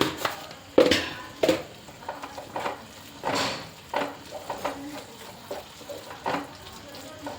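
Spices such as turmeric frying in a pan for chicken curry as a spoon stirs and scrapes, giving soft sizzling with irregular scraping strokes and light clinks against the pan, close and fairly quiet.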